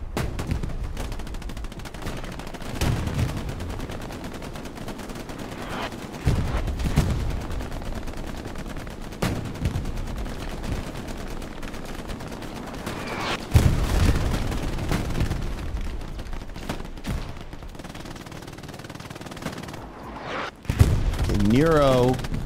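Artillery shells and rifle fire keep landing across a Hell Let Loose battlefield, with repeated booms and scattered gunshot bursts near and far. A commentator talks over much of it.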